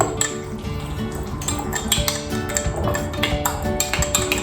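Boba tea ingredients being mixed, with a utensil clinking and tapping steadily against a cup or bowl in quick, close, repeated strikes, no talking.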